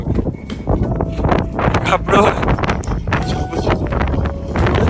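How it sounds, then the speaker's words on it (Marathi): Strong wind gusts at Gurudongmar Lake, a high, cold place, batter the microphone in loud, uneven rumbling bursts, while someone speaks through the wind. "म्हणजे वाऱ्याचा स्पीड तुम्ही इमॅजिन करू शकत नाही."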